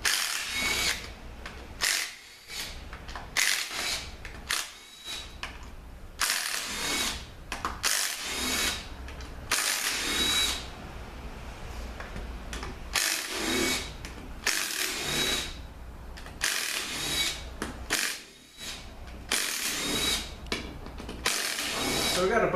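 A power tool whirs and ratchets in repeated bursts while backing out valve body bolts on a 4T45E automatic transmission under teardown, loud and close, with short pauses between bolts.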